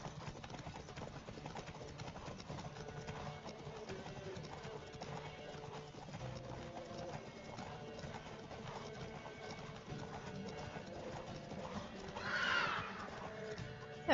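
A horse in the video game The Witcher 3 gives a short whinny near the end, after steady clip-clop hoofbeats and quiet game ambience. The sound is faint and distant, with no talk.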